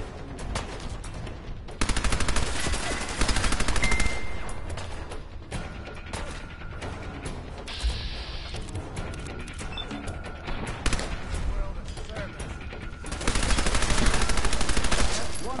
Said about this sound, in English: Let's switch back to my submachine gun.